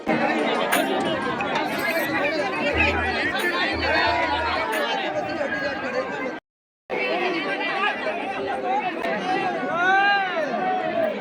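Dense crowd of devotees queuing at the newly opened Dwarkadhish temple in Virar, a steady loud hubbub of many overlapping voices and chatter close around, with a brief cut to silence partway through.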